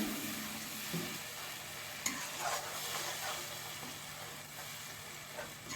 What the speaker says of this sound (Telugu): తర్వాత టమాటా ప్యూరీ యాడ్ చేసుకొని చక్కగా కలుపుకుందాం